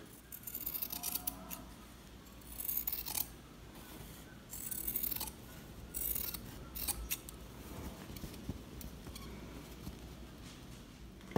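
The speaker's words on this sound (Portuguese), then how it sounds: "Agora é só a gente cortar ó, o forro e o tecido colorido." Scissors snip through a fabric lining and a colored cotton fabric for a handmade bag, in close repeated bursts of crisp cutting separated by brief pauses, with no talking.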